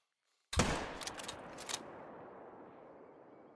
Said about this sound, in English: I have no clue what kind of shot I just put on that.